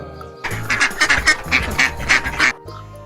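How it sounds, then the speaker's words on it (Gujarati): A duck quacks loudly in a rapid series of about eight nasal quacks over a low steady backing track, close and clear. "બતક,"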